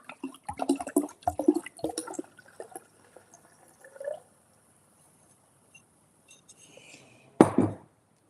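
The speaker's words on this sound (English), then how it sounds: "We'll give this a good old slosh into here." Pinot Noir wine sloshed from a bottle into a glass decanter: a brief burst of liquid pouring and splashing near the end, after an earlier stretch of clinks and handling sounds.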